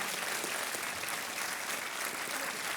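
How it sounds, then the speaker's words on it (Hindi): Studio audience applauding on a Hindi quiz show set, steady continuous clapping at even strength throughout, with no voices over it. "तालियां बजती रहनी चाहिए"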